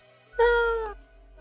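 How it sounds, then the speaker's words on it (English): A single cat meow in the video game Death and Taxes, one clear rising-then-falling tonal call lasting about half a second, close and alone. "Meow, Lady Poddington adds a sound of compassion."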